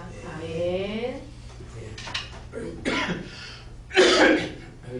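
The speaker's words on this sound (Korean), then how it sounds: "아유 왜 갑자기 기침이 또 많이 나요?" A person speaks briefly, then coughs several times in harsh, close bursts, the last cough loudest.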